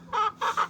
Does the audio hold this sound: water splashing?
no